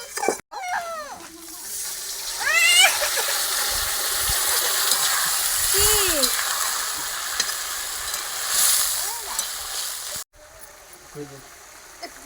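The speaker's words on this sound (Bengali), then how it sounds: "পটলগুলো দিয়ে দেবো ভেজে রাখা। কষিয়ে নেবো ভালো করে এটা।" Pointed gourd (potol) pieces sizzle and fry steadily in a hot pan as they are sautéed for potol posto, a continuous crackle with occasional stirring, while people talk over it intermittently.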